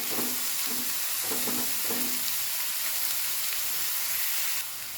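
Chopped onions sauté in a pan on medium flame for a papaya curry, giving a steady loud sizzle with a few stirring scrapes early on.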